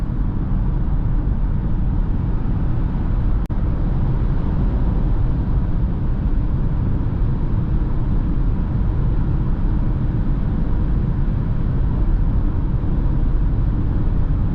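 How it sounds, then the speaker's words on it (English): Constant low rumble and hiss inside a 2021 Peugeot e-2008 Allure electric car cruising at speed at night, wind and road noise blending into a steady drone with one brief click partway through. "A little bit of wind noise."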